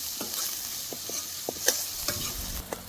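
Onions frying in oil for a Bhavnagari gathiya and onion curry, a steady close sizzle broken by repeated scraping stirs and light clinks, with no talking.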